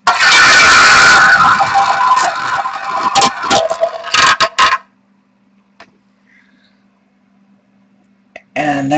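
Roulette wheel spun to pick a team during a trading card box break, a loud, dense whirring and clattering for about five seconds that ends in a few sharp clicks, then near silence.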